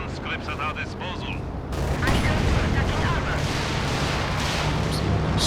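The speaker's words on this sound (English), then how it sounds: "Stuka barrage." Stuka dive bomber barrage in Company of Heroes 2, heavy explosions and gunfire swelling into a loud, rumbling continuous bombardment after a quieter start, with a commentator talking over the din.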